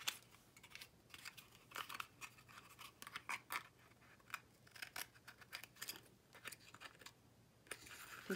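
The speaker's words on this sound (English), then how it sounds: "for the little pieces that I cut cockeyed, I'm just going to trim those." A paper trimmer cutting small card pieces for a mini bookshelf memorydex card craft: a quiet run of short scratchy slicing strokes and clicks at irregular intervals, close and faint.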